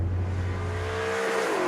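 Maserati GranCabrio Sport engine cruising along at a relaxed pace, a steady low drone that holds even and then eases, with a faint rising whine near the end and no voices.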